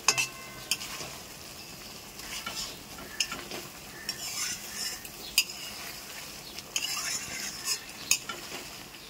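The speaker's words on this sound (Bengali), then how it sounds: "ভালো করে এবার একটু কষিয়ে নেব।" Prawn malaikari masala is stirred and fried in a pan, with a steady sizzle under repeated scraping and clinking of a spatula against the metal, close and moderately loud, with no voices.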